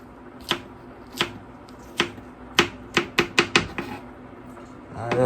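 Knife chopping garlic on a board for steamed parrot fish, a series of sharp distinct chops, sparse at first then faster in a quick run of five, close and clear with no talk.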